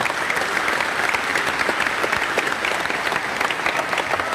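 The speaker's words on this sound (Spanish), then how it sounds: "Un aplauso para el hermano." Loud, sustained applause from a church congregation, a dense continuous wash of clapping that holds steady from start to finish with no talk over it.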